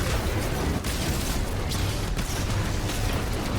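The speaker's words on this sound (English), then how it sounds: "Explosions." Loud, dense explosions in the video game Destiny 2, a continuous roaring burst of blasts filling the whole few seconds with no talk over it.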